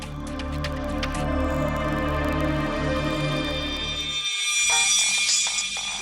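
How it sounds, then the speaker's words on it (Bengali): An electronic phone ringtone sounds loud and continuous as a steady tonal ring, briefly cutting out near the end before resuming brighter, in a tense crime-drama scene. "ফোনের শব্দ।"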